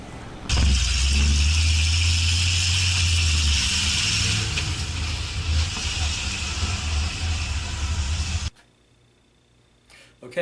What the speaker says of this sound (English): Just a car with a bike and a horse trailer, right?